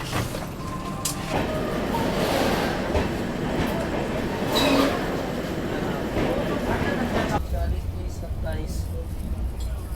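Superfast express train from Sriganganagar to New Delhi rumbling along with a steady rattle and clatter heard from inside, with voices talking faintly over the noise.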